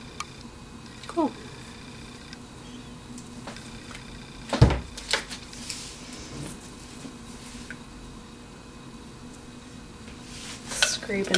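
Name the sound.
scraping soap batter out of mixing bowl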